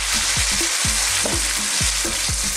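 Tomatoes fry with onion in a pan, giving a loud, steady sizzle with repeated scraping stir strokes at a regular rhythm, close up and without any talk.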